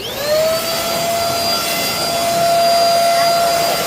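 A vacuum cleaner cleaning a dusty floor, its steady loud whine and rushing airflow droning on without a break throughout, close to the listener.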